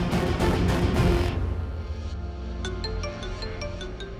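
A mobile phone rings with an incoming call, a bright repeating electronic ringtone of short tonal chimes that takes over as louder background music fades out.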